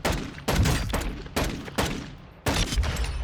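A D50 pistol fires in Warzone 2, four sharp, loud shots spaced unevenly with a short reverberant tail after each, no talking over them.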